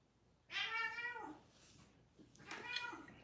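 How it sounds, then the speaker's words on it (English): Two house cats yowl at each other in a loud, drawn-out caterwaul, then a shorter second meow follows after a pause, close by in a quiet kitchen. "If y'all hear that, it's the kitties."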